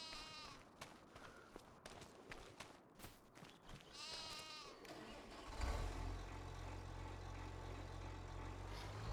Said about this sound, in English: Quite yappy little things then,